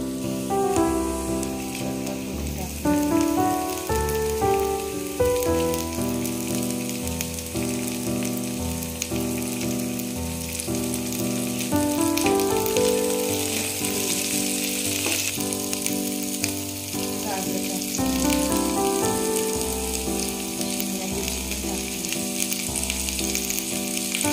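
Onion frying in a pan on a medium flame for Hakka noodles, giving a steady, dense sizzle throughout, partly masked by continuous background music.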